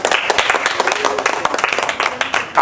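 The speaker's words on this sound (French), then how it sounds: "Applaudissez aussi pour vous." Children at a kids' club game show clap together in loud, dense applause, close and continuous, with an adult voice talking over the clapping.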